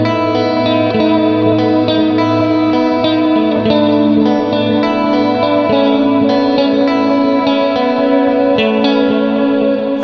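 A directly recorded electric guitar, heavily processed with delay, reverb and chorus, plays sustained, shimmering chords that wash together continuously at a steady, fairly loud level.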